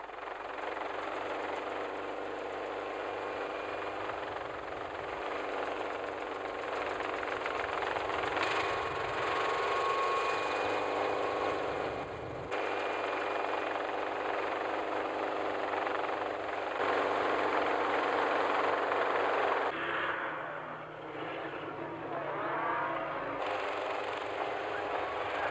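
Mustering helicopters working cattle in the Australian bush, a continuous rotor and engine drone that rises and dips as the choppers move overhead, with brief speech mixed in.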